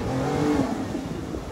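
A Dodge 4x4 truck spinning donuts in mud roars with a loud, close engine rev, a sustained growl that swells and then eases slightly, with no talking.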